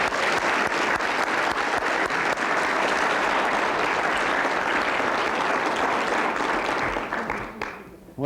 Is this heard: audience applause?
yes